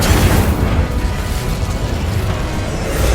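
An Incendio fire spell blasts in Hogwarts Legacy with a loud, sustained roaring whoosh and deep rumbling boom that holds steady for a few seconds.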